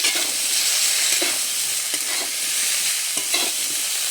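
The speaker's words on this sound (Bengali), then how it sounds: "ভেন্ডি, বরবটি, আলু, এটাও ভেজে নেব।" Okra, yardlong beans and potato fry together in a pan with a steady, bright sizzle, and a utensil stirs them in soft scraping strokes. The sound is close and continuous, with no voices.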